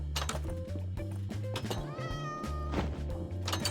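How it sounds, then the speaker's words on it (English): A cat meows loudly and repeatedly right at the microphone over a steady low hum, several drawn-out, wavering cries in quick succession with no talk. "Fucking cat!"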